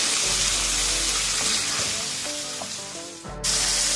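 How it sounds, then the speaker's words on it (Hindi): Chicken pieces drop into hot oil for a chicken tikka shawarma and sizzle loudly and steadily, with a few scrapes of stirring near the end before the frying hiss carries on. "ऑयल गर्म हो गया, हम इसमें चिकन ऐड करते हैं।"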